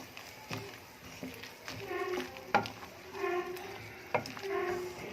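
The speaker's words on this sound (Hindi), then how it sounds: "अब इसे मिक्स करेंगे अच्छे से।" A spoon stirs spiced mutton curry in a pot, giving repeated soft scraping and clinking strokes at an uneven pace, faint and close, with a voice talking over it.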